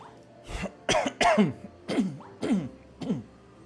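A series of six short, harsh coughs in quick succession, close and moderately loud.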